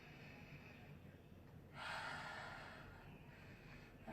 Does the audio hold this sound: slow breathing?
yes